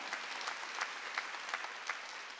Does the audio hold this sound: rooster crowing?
no